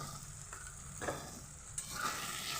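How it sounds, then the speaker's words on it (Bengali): Dried shrimp paste with fish sautéed in a pan, steady sizzling under scraping spatula strokes; no talking. "এবার মাছটাকে সঙ্গে নিয়ে ভালোভাবে কষাবো"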